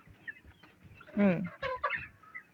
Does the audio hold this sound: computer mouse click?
no